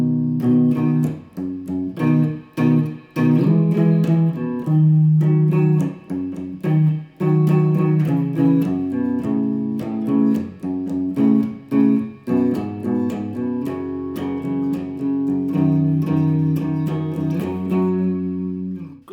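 Guitar plays a slow variation of a song, a steady run of plucked and strummed notes with frequent short muted gaps, loud and close with no talking.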